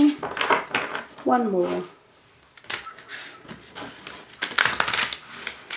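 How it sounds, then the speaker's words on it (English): Tarot cards being shuffled during a Sagittarius reading, giving soft papery riffling and clattering bursts near the microphone, broken by a short pause, with a voice speaking briefly over them. "A little bit more shuffling."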